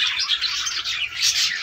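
A female breeding bird sitting on eggs in a cage gives a run of bright chirps and tweets, close and fairly loud, with no talk.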